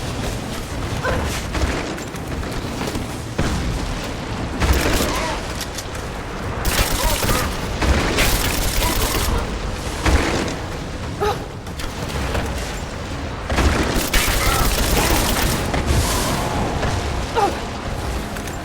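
Trebuchet firing and booms in the video game Rise of the Tomb Raider, a dense loud barrage of crashing impacts and mechanical thuds with repeated bursts of rumbling debris throughout.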